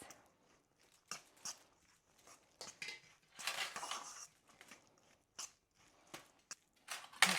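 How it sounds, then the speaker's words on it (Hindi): Utensil clinks and scrapes against a bowl as Chick-fil-A sauce is stirred in, with a series of short, quiet clatters separated by pauses. "इसको करते हैं मिक्स।"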